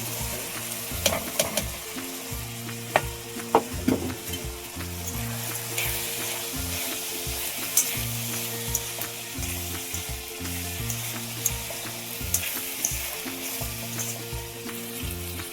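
Snake gourd for a palya fries in a pan with tomato, a steady sizzle running throughout while a spatula scrapes and stirs in irregular clicks and knocks, with no talking.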